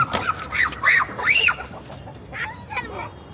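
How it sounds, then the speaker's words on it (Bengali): Several chickens cluck in quick, uneven bursts nearby, the calls fading toward the end over a quiet background. "তো আমি হচ্ছে এখন ফাইনালি আমার মুরগিগুলোকে ছেড়ে দিব"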